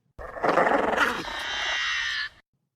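A velociraptor's harsh, rasping pack call, starting with a gritty growl and shifting into a sustained, high-pitched screech before cutting off; loud and close, no talking.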